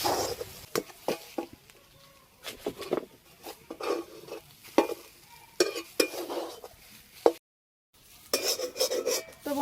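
A spatula scrapes and stirs pointed gourd around a pan to dry off its juices, producing repeated rasping strokes in bursts with brief pauses, fairly close and without talk.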